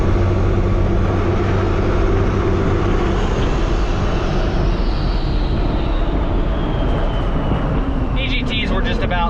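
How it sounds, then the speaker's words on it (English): A 12-valve Cummins diesel truck with a 3rd-gen swap pulls steadily up a mountain in fifth gear, its engine a loud, constant low drone with road and wind noise throughout. "Fifth gear, climbing the mountain."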